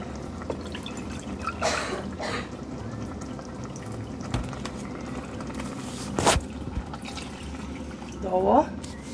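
Water is poured into a pot of rice with vermicelli in a home kitchen, coming in short splashing bursts with drips and trickles between them while a person talks over it.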